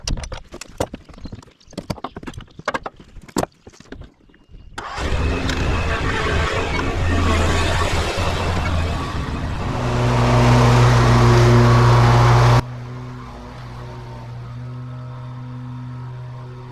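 A Stihl RZ 752i zero-turn lawn mower's engine starts after a few clopping knocks, then runs at a steady loud drone, rises to a louder higher-revving hum, and settles back to a lower, even idle.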